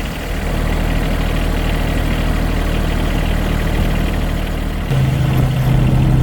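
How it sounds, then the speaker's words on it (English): A Jeep engine idles steadily and loudly after a jump start, with a continuous low rumble that shifts slightly in pitch near the end, close by with no talking. "Here we got the Jeep running."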